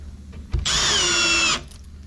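A power drill drives a 1.25 inch screw, much like a sheetrock screw, into a ready-to-assemble cabinet: one loud, steady whirring burst of about a second, close by, with nothing else around it.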